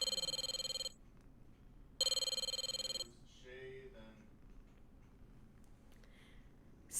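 A telephone ringing after a redial, two long electronic ring bursts with a pause between them, clear and fairly loud, followed by faint indistinct sounds.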